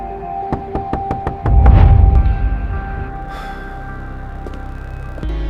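Knocking on a door in an Urdu suspense audio drama: about six sharp, evenly spaced raps, then a heavy booming thud that rumbles away. A faint steady tone lingers underneath.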